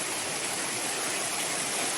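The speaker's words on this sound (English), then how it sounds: "we made it to another kind of waterfall" Small trailside waterfall swollen by heavy rain on Black Rock Mountain, a steady, loud, broadband rush of falling water that holds constant without any talk.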